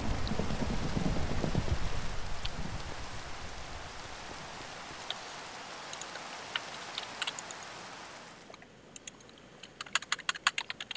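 Steady rain hisses in the Beyond the Skies video game, loud at first and then thinning out. It stops near the end, leaving only scattered sharp clicks.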